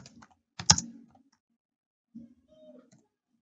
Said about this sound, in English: on top here on the search bar we type KUCCPS